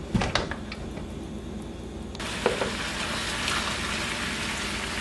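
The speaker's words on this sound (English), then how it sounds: "we're going to let these just sit here and fry a little bit until it gets brown" Chicken pieces frying in a big pot over a fire for Belizean curried chicken, a steady close sizzle and crackle with a few light knocks, heard alone.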